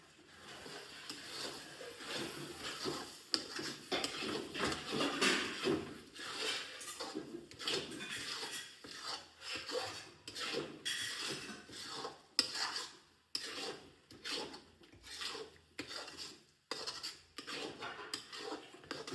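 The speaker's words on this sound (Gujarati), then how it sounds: "સ્વાદ મુજબ આપણે લીંબુ એડ કરીશું આમાં. હવે આને મિક્સ કરી દઈશું." A spoon scrapes and stirs chopped green turmeric with lemon juice in a bowl, a busy stretch of close clinks and scraping strokes with no speech.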